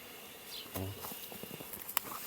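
Honeybees buzzing around a hive housing two swarms, faint scattered wingbeat hums from bees flying close by past a quiet outdoor background, with a brief sharp tap near the end.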